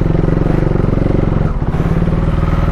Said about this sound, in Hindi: भाई तो छोटा मोटा बर्नआउट हो गया भाई।